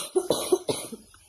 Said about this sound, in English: I have this awful cough that I can't get rid of.